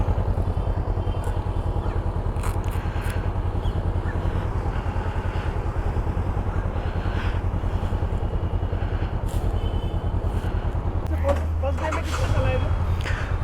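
A Honda NX500 motorcycle being ridden, its fresh chain and sprocket just fitted, gives a steady, continuous engine drone with road and wind noise throughout, its pitch shifting near the end as the rider changes speed, while a voice speaks over it.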